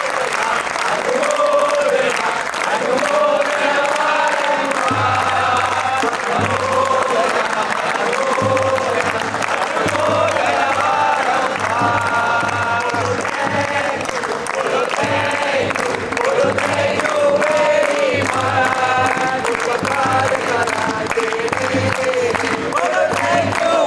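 A large crowd at a Jain pilgrimage gathering applauds the donors, a loud, steady wash of clapping that runs the whole way through, with voices and cheers mixed in.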